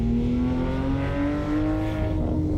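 A sports car engine in the Assetto Corsa racing game holds a strong, rough exhaust drone whose pitch climbs slowly as it revs, continuous and close without pauses.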